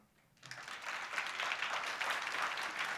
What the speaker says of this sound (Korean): 아주 유쾌하고 귀가 즐거운 강연 들려주신 라문우 교수님께 감사의 박수 한 번만 더 부탁드리겠습니다